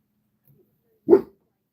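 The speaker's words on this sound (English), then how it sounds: "What are you barking at, Rosie?" A single sharp dog bark rings out close by, surrounded by near silence.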